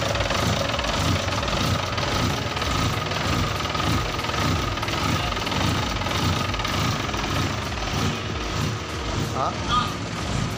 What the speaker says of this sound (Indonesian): Masih dingin teman-teman mesinnya ini.